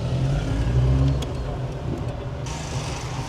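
Steady engine rumble from a 1985 Saab 90 moving through London streets, a low continuous drone with a brief swell near the start and a brighter hiss of road noise joining toward the end.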